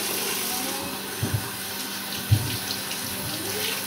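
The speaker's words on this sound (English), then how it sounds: "So I just kind of rinse that out a little bit." Water runs steadily from a tap while a sink is rinsed out, a close continuous rushing with a few soft knocks and splashes, no voices.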